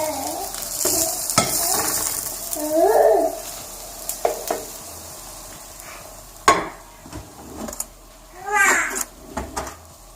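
Egg-coated bread sizzles in a frying pan, a steady crackle broken by scraping and clattering, with a voice and a meow-like sound in the background.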